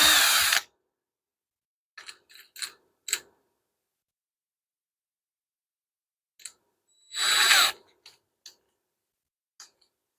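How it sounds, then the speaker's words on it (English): A drill bores a concealed hinge hole in a door with a jig, giving a short loud burst at the start and another near the end, separated by quiet and scattered faint clicks and taps. "We're going to get our drill bit."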